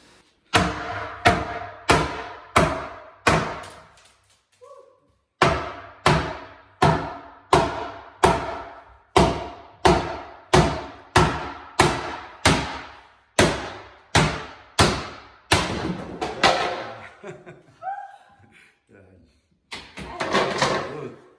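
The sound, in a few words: hammer smashing in bathroom demolition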